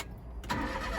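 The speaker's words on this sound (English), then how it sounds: "Start it up real quick." Turbocharged Suzuki Carry kei truck engine starting: a brief quiet moment, then the small engine catches and settles into a steady, low, fairly quiet idle.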